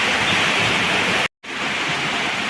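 Heavy rain and floodwater rush like a river past a house in Tiruppur district, a loud, steady broadband roar that cuts out for a split second midway, then resumes.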